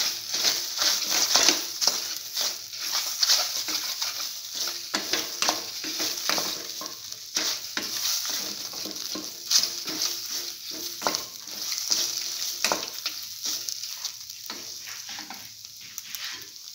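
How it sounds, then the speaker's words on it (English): Egg being scrambled with a bread stir-fry mixture in a frying pan, a steady close sizzle broken by repeated scraping and stirring strokes of a spatula throughout. "And scramble the egg with the rest of the mixture."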